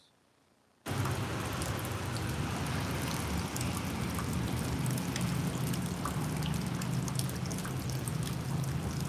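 Steady rain falls during a walk around Harlan, Kentucky, a dense, constant patter and hiss that begins abruptly and carries on loud and close without a break.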